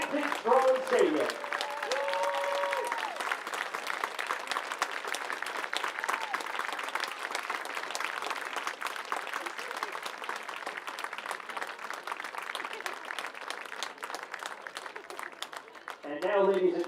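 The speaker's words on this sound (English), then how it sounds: "a round of applause for the healthcare workers on hand here tonight at Vintage Strong Stadium" Crowd at Vintage Strong Stadium during a Barrie Baycats baseball game applauding healthcare workers, sustained dense clapping and cheering across the stands, with an announcer's voice at the very start and again near the end.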